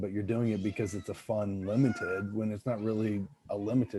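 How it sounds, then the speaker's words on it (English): A cat meows repeatedly, loud and close, in a series of drawn-out, wavering calls with short gaps between them. "Yeah, that's a cat."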